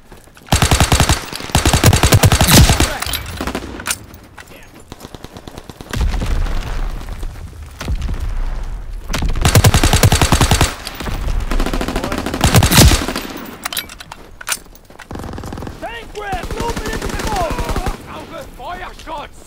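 Gunfire in the World War II shooter Call of Duty WWII, with loud bursts of machine-gun fire and booming shots in repeated volleys, dense and continuous and occasionally broken by brief lulls, with voices mixed into the game sound.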